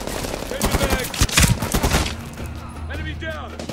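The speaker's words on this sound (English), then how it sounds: "That had to be a turret." Rapid turret gunfire rattles in Medal of Honor Warfighter, a dense burst of loud automatic shots in the first two seconds that then fades into a lower rumble, with someone talking over it.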